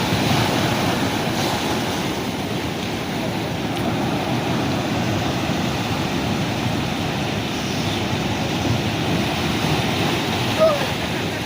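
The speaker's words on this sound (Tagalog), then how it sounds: "Lakas ng alon dyan." Strong ocean surf breaking steadily against the shore, a continuous loud wash of waves mixed with wind buffeting the microphone, without pause for the whole stretch.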